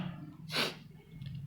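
One short, breathy cough bursts out near the mic, sudden and forceful, over faint background hum.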